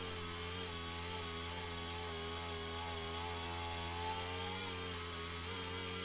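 A power buffer polishes the vent window of a 1963 Ford Falcon, giving a steady, continuous droning whine with a strong hum that stays even throughout, close and alone.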